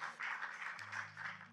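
Faint audience applause at a French project launch presentation, a steady diffuse wash of clapping with a low hum underneath, lasting a brief moment.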